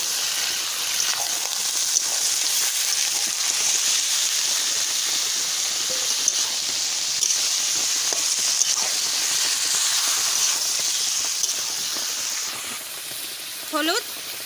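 Mutton frying in a red spice masala, with continuous sizzling and hiss throughout, a few faint clinks of a utensil, and a brief stir near the end.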